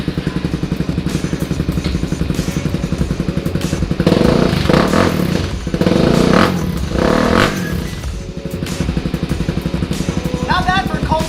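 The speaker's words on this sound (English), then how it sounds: "Not bad for a cold start." A motorcycle engine starts cold on Oahu and settles into a steady, loud idle, with a few throttle blips and thumps in the middle and faint speech near the end.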